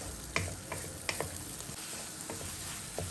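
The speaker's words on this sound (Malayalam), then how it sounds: "ഇനി മുട്ടയൊന്ന് നമുക്കിങ്ങനെ ചിക്കിയെടുക്കാം" Beaten eggs, three of them, scrambled in hot oil in a pan, a soft continuous sizzle broken by sharp scraping and stirring clicks from a utensil, close by with no talking.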